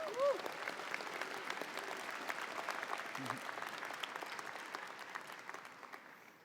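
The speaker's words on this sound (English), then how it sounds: "Can we give her another round of applause?" Audience applause at a university commencement ceremony, a broad, moderately distant clapping that holds steady and slowly thins toward the end, with a brief voice or tone near the start.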